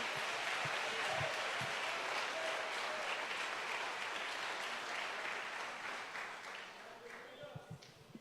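A church congregation applauds in a sustained, dense wash of clapping that fills the room and tapers slightly near the end, with voices faintly mixed in.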